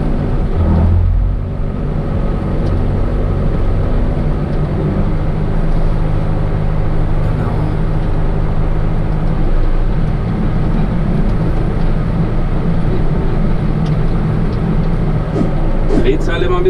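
A John Deere tractor drones steadily with a deep, constant engine rumble while working a field with a cultivator for seedbed preparation, heard from close by with someone talking over it.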